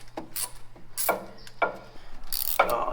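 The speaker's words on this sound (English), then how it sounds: "Yeah, this little Tecton wrench." A small Tekton ratchet wrench works on a radiator hose clamp on an FJ40, giving a few close, quick clicking ratchet bursts with brief pauses between them.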